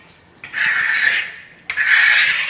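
A trowel pressed hard across a wax finish on a travertine-textured fireplace makes two loud, sustained rasping strokes, each starting abruptly, with a short pause between them.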